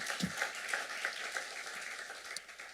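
A congregation at a French-language church service applauds, a steady patter of many hands clapping together at moderate distance, fading slightly toward the end.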